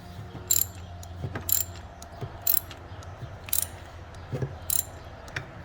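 A ratchet clicks in short, regular bursts, about six strokes, as it tightens an engine coolant temperature sensor on a 2017 Jeep Cherokee, close and crisp against a quiet background.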